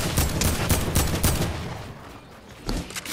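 Rapid bursts of gunfire crackle through the first half of a Fortnite match, several sharp reports in quick succession, then ease off before another loud shot near the end; no talk over them.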